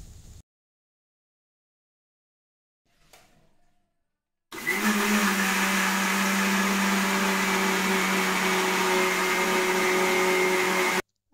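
A kitchen mixer grinder runs loud and steady, blending soaked lentils and chillies into a thick dosa-style batter for a traditional Kerala meal; after a brief quiet start with a small clatter, the motor whirs continuously for about seven seconds.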